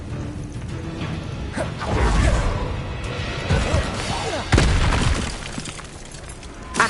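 A fiery Confringo spell blast in Hogwarts Legacy, part of a chaotic stretch of combat crashes, booms and impacts, with one sharp loud hit in the middle and steady battle noise throughout.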